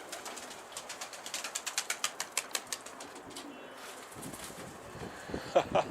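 Pigeons at a backyard coop burst into flight, a quick run of rhythmic wingbeats flapping close by before trailing off into outdoor ambience.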